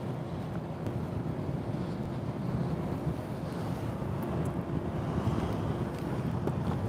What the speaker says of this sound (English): That breeze is just coming in enough to give you a nice bunch of waves near the shore here